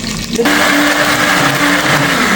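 A blender grinds red chili, bird's eye chili, candlenuts, onion and garlic with a loud, continuous motor whine that rises in pitch as the motor spins up, close and alone.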